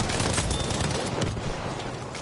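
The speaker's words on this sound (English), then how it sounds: "ECU, however, is pushing in with their sector artillery." Artillery fire in a video game battle rolls out as a dense, continuous barrage of loud, overlapping blasts and crackling impacts with no pause.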